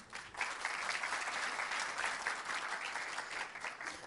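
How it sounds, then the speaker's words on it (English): An audience at a startup demo day applauds as the team comes to the stage, a continuous wash of many hands clapping at a moderate, even level that eases slightly toward the end. "A round of applause for the team."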